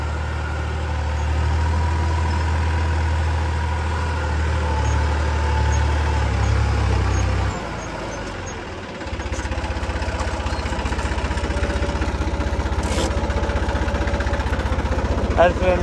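A heavy tractor engine idles with a steady low rumble, dipping briefly before settling back into a continuous throb.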